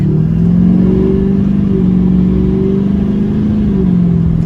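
An LMM Duramax diesel truck fitted with a loud aftermarket turbo accelerating at full throttle, a heavy, steady low engine roar that holds loud and close for the whole stretch, with a slight rise and fall in pitch.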